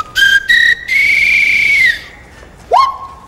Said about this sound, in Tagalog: Mamaya tutugtog po kayo sa pamamagitan ng pito.